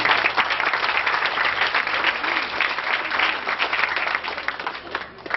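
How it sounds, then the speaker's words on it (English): Steady, loud applause from an audience, dense clapping that holds evenly for several seconds before easing slightly at the end. "So let's give him a round of applause."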